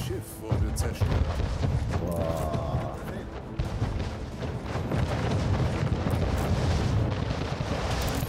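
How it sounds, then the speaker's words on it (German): A loud, dense barrage of booming cannon fire and explosions as a ship is destroyed in a naval battle in the video game Anno 1800, with continuous rumbling impacts throughout. "Ein Schiff wurde zerstört."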